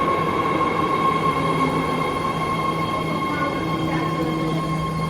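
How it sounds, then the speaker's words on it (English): BART Green Line train at Lake Merritt station rumbling steadily with a constant rail roar and tonal whine from wheels and motors, loud and close, no voices. "I got on a Green Line train here in Lake Merritt, transferring to the Orange Line"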